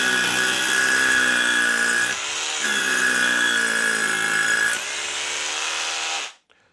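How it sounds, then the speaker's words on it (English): A loud SDS drill grinds steadily into a house wall, briefly easing off once midway, then whirring on before stopping and spinning down. "here's a hole drilled with the SDS drill"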